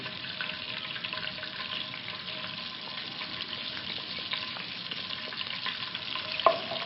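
Small pieces of cinnamon and cumin seeds sizzling in hot oil for a white chicken korma, a continuous dense frying hiss heard close up with a brief clack of a utensil near the end.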